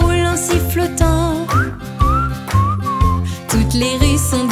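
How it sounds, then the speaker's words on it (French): A cartoon garbage collector whistles a cheerful tune over a bouncy children's song backing, the bright whistled melody rising and gliding in the middle of the music. "et je roule en sifflotant."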